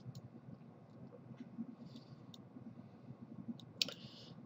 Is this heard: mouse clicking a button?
yes